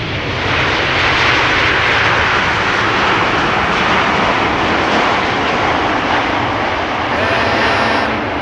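A Turkish Airlines jet arrives at Amsterdam Schiphol Airport, its engine roar broad and loud, holding steady throughout with a slight swell in the middle.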